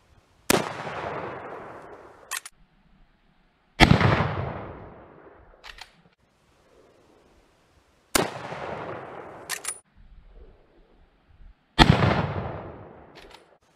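Four loud, sharp gunshots from a Winchester 1895 lever-action rifle ring out several seconds apart outdoors, each with a decaying echo followed by the metallic clack of the lever being cycled.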